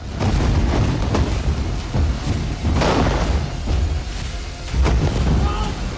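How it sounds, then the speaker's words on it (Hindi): Heavy bomb explosions boom and thud in quick succession, a loud rolling barrage with a few sharper bursts, during bombing in Gaza. "कहीं बैक टू बैक धमाके पूरे इलाके को दहला रहे हैं।"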